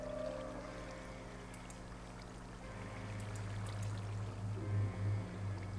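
Water in Minecraft pours steadily into a pool, a soft continuous trickling stream that swells a little louder toward the end, with no voices over it.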